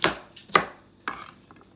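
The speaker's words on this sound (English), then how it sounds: "I'm gonna quickly chop them up like that." A knife chopping mini cucumbers, three crisp, separate thuds close by, spaced about half a second apart, with quiet between strikes and no talking.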